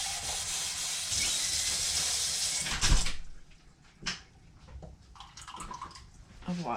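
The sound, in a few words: pouring half a cup of water for roasted rhubarb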